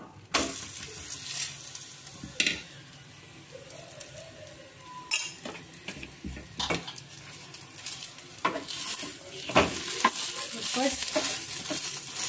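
Paratha roasting on a hot griddle with desi ghee, a steady soft sizzle broken by scraping, stirring and the odd clink of a utensil, close and fairly quiet.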